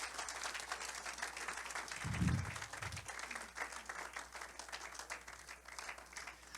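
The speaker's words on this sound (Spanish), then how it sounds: "¿Alguien le da un aplauso a Cristo Jesús?" A church congregation applauding, a steady wash of many hands clapping at moderate distance, with a couple of low thumps partway through and a faint voice blended in.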